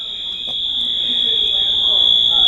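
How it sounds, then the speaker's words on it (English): A fire alarm in an art museum sounds a loud, steady high-pitched tone without pause while people talk faintly underneath. "Fire alarm."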